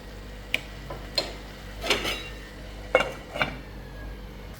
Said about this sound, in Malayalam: ഇനി നന്നായിട്ട് ഇളക്കി യോജിപ്പിക്കാം